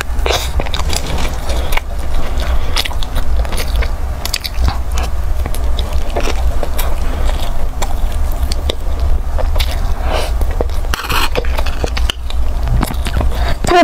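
Salted egg yolk food is chewed close to the mic in a mukbang, with dense crunchy bites and moist mastication continuing steadily throughout.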